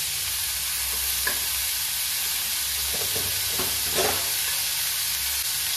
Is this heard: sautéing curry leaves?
yes